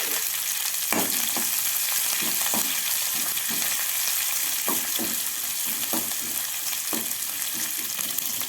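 Chopped green chilies and curry leaves sauté in hot oil for egg paniyaram, a steady close sizzle broken by several soft stirring scrapes spaced through the clip, with no talking.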